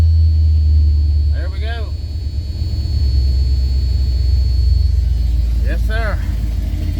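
A Mopar 360 V8, freshly repaired at the carburetor and ignition, idles with a steady loud low rumble throughout, while someone speaks briefly near the start and again near the end.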